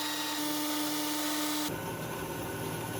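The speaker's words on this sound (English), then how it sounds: "Now we are going to machine this aluminum cylinder." A lathe machines an aluminum cylinder, a steady high whirring with a tonal hum that abruptly changes to a rougher, broadband cutting noise partway through, close and continuous.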